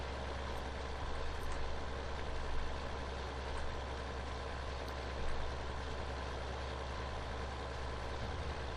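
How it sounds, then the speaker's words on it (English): Tractor engine running steadily while pulling a seeder through a field, a constant heavy low drone with slight surges, loud and close throughout with no voices. "Seeder's still madly seeding away."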